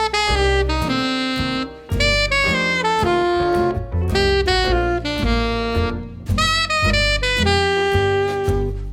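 Double chromatic approach tones from above, played on a saxophone as a run of short, articulated notes in phrases, close-miked and loud with brief breaths between groups.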